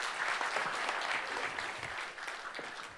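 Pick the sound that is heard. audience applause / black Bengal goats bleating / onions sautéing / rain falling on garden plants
audience applause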